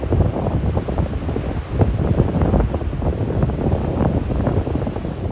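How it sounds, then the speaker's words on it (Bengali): Sea waves at Bakkhali near Henry Island beach, a loud rumbling surf mixed with heavy wind buffeting the microphone, continuous and roaring. "সি বিচে আছড়ে পড়ছে সমুদ্রের জল"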